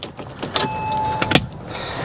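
The electric glass Targa roof of a Porsche 996 Targa Gen 2 opening: a thin steady motor whine runs for under a second, ending in a couple of sharp mechanical clicks, close and fairly quiet, with no talk.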